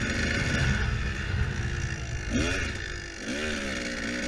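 A dirt bike rides a mini enduro cross track with tire, log, barrel and rock jumps, its engine buzzing steadily and rising in rev surges from moderate distance.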